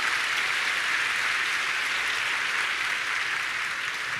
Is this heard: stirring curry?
no